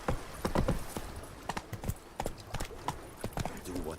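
Horse hooves clip-clop at a gallop in The Witcher 3, a steady rapid rhythm of close, loud hoofbeats running throughout, with faint speech mixed in.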